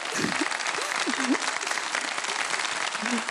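Studio audience at a televised quiz show applauding, a dense burst of clapping throughout, with brief voices and exclamations mixed in.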